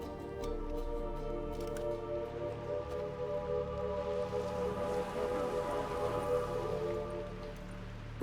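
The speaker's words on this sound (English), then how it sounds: "Rain." Steady rain hiss in The Witcher 3 fills the scene for about eight seconds, an even wash of falling water beneath sustained tonal music and faint game ambience.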